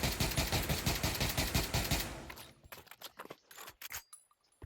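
Rifle fire in the VR shooter Pavlov VR, starting with a fast, loud full-auto stream of evenly spaced shots, then breaking into scattered single taps with short gaps between them.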